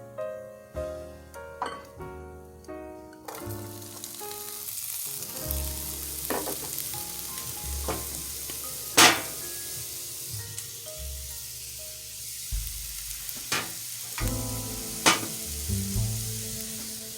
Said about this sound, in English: add our onion, green pepper, and minced garlic, and we're going to saute that for 2 minutes